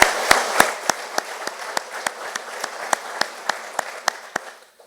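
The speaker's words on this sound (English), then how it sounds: "I think we should give them a round of applause for that" Audience applause at a grand opening for a lawn and garden research facility: dense broadband clapping punctuated by regular sharp claps, steady for several seconds before tapering off at the end.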